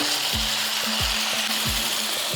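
Eggplant pieces fry on a high flame, a dense, steady sizzle under a spatula that stirs the pan in a rhythmic pattern of soft scrapes, about one every half second.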